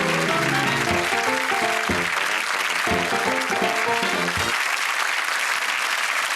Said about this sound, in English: All our contestants, round of applause, please.